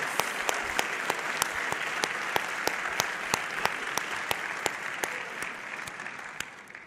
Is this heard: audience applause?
yes